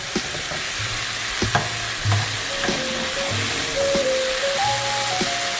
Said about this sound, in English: you hear the sizzling, this popping? This is good, this is what we want.